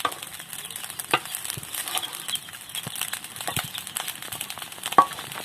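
Fried rice sizzles and crackles in a pan at a rustic open hut kitchen, a dense continuous frying hiss broken by sharp scraping stir strokes.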